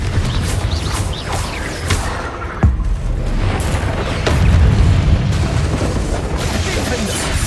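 Confringo blasting spells explode over and over during a Hogwarts Legacy duel, with loud booms and crashes in quick succession mixed with shouted spell incantations throughout.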